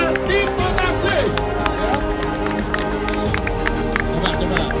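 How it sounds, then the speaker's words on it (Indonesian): Applause from an audience at an Indonesian student award ceremony with trophies and medals, a steady wash of clapping and crowd noise beneath music and a loudspeaker voice. "Beri tepuk tangan untuk Bati Potagis."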